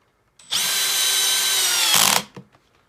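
A power drill with its clutch set to 21 drives a screw, a loud steady whir lasting under two seconds that ends abruptly, followed by a couple of faint clicks.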